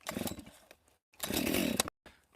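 A heavy Stihl MS661 chainsaw, set up to cut small sassafras firewood, sputters briefly, then bursts into a loud close roar that cuts off abruptly, followed by a shorter rev.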